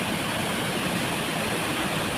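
A waterfall roaring as a dense, steady rush of water, constant and fairly loud throughout, with no voices.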